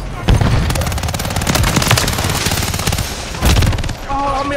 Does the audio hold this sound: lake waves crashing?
no